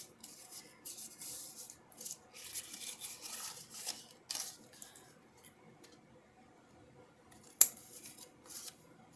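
Scissors make small, scattered snips into scored paper on a delicate craft piece, quiet and close, with one sharper cut near the end.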